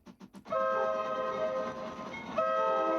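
A train whistle in a digital interactive train artwork opens with a few short chuffing bursts, then sounds a long, steady, multi-tone blast, close and loud, alone without talk.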